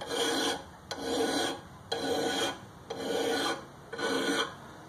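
A lawn mower blade is sharpened with a grinder, making five evenly spaced rasping passes, close and fairly loud, with short gaps between strokes and no talking.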